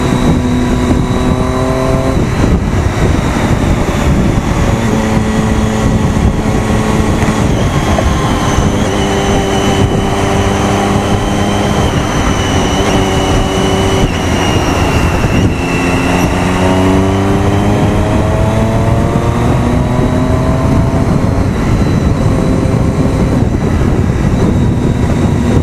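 A Triumph Daytona 675 motorcycle engine pulls loudly and steadily through traffic, its pitch rising and falling with each acceleration and gear change, close to the microphone with heavy wind roar.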